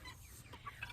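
Meat chickens clucking softly in the background near a garden, faint and intermittent with brief higher calls over low outdoor rumble.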